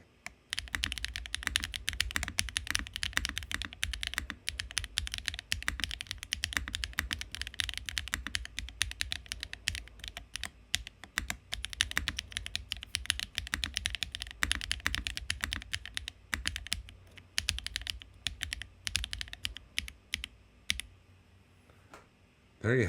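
A Neo80 mechanical keyboard with HMX Lotus switches and MV Expo keycaps is typed on continuously, with dense, bright, close clacking keystrokes in fast runs, easing off near the end.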